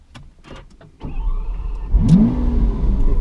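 A Lamborghini Aventador SV's electric window motor whirs briefly inside the cabin, followed by a low steady engine hum and a rising whine as the car idles, with a soft click or two at the start.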